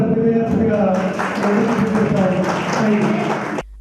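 A crowd claps at a political party meeting, a dense, even patter of applause running under a loud voice before cutting off abruptly.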